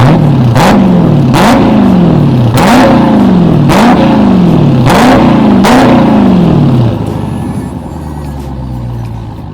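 A Dodge Charger's engine revved outdoors, close by: six sharp, loud throttle blips in an even rhythm, each one falling off again, before settling into a lower idle rumble.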